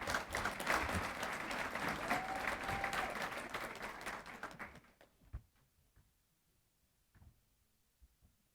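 Audience at an employee recognition ceremony applauding loudly for about five seconds, then the clapping fades out to a few scattered claps and faint room noise.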